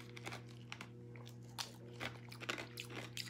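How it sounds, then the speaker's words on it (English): Ice being chewed, a series of faint crunches and bites spaced irregularly over a low steady hum, with no talk. "Chew a little ice"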